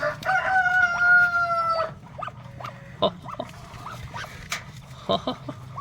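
Rhode Island hen sounding near at hand, a drawn-out two-tone call followed by a run of short, sharp clucks spaced irregularly, with a low rumble of background noise throughout.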